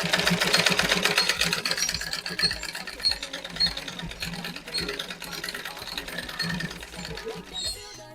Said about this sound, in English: then we'll start to sew again